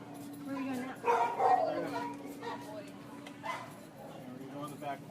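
Dogs bark and whimper in an animal shelter's back corner kennels, heard as a few yips and barks under nearby talk.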